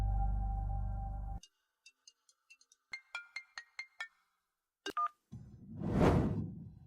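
A phone number is dialed: a steady tone cuts off, then a string of short, evenly spaced keypad beeps, a brief blip and a soft rising whoosh, all alone and fairly clear.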